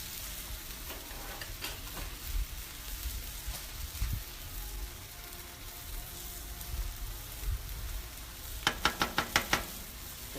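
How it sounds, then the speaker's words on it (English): Green onions sizzle and fry on a hot Blackstone griddle, a steady broadband crackle with occasional stirring scrapes, and a quick run of sharp metallic taps near the end. "Then we're going to put the green onions on there."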